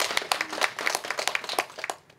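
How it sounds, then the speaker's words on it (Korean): A crowd gives a short burst of clapping with a ragged rhythm at an outdoor Jeju folk work-song performance, fading out near the end. "여러분 뜨거운 박수 부탁드립니다."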